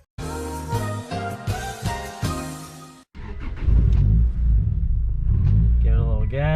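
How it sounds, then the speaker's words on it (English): A Toyota Celica engine runs on its first start in seven months. After a sustained tonal passage comes a loud, steady low rumble that holds to the end, with voices in the background. "Give it a little gas. I think it's gonna find its idle here."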